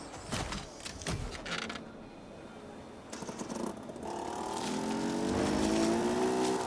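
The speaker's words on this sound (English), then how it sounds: "We got a motorbike!" A small motorbike or moped engine in the video game Generation Zero revs up, its whine climbing steadily in pitch and growing louder over the second half.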